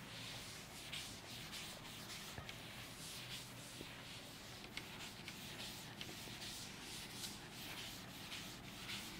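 A board is rubbed clean to erase chalk or marker writing, giving a steady soft scrubbing and brushing sound that continues for several seconds, fairly faint and up close, with no talking.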